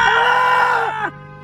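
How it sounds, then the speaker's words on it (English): Several people scream together inside a car stuck in traffic on the way to the M1, a loud sustained vocal yell lasting about a second before cutting off into quiet cabin noise. "Should we scream?"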